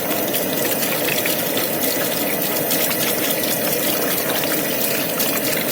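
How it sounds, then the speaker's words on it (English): Black vinegar pours in a steady, loud gushing stream into a large batch of homemade mint sauce with water, sugar and mint, running unbroken from start to finish. "So here's all the black vinegar going in."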